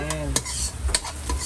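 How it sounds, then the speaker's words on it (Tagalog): Tahong mussels being sautéed in a pan give off a low sizzle, with a few quick clacks of shells and a spoon scraping the pan. "Igisa lang natin siya baigi."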